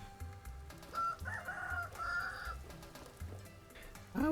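Chickens in the game Vintage Story crow and cluck in several loud, near calls, one shrill squawk rising at the end, over a low rhythmic background score.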